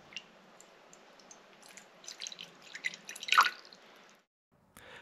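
Water drips into a bowl of small coloured tissue pieces. Scattered, quiet drips grow busier and louder toward the end, then stop in silence before one brief final sound.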